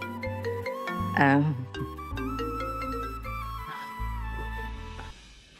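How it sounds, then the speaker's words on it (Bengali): A mobile phone rings with a melodic electronic ringtone, a sequence of sustained tonal notes playing continuously for several seconds before cutting off. "আর একটা ফোন এসছে, 1 মিনিট।"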